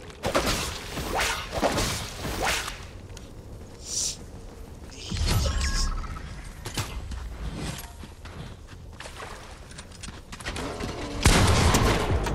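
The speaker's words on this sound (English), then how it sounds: "Shooting at me, and they're not pleased with me." Gunfire in Fortnite, bursts of rapid shots and sharp impacts scattered through a busy game mix, some rounds close and loud, others softer, with whooshes in between.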